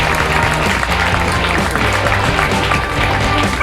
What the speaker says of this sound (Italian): quindi un bel applauso, ve lo facciamo di tutto cuore